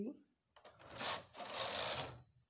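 A knitting machine works a cable pattern on a men's sweater, its carriage sliding across with a brief rasping swish, then a longer sustained sweep, close and fairly quiet.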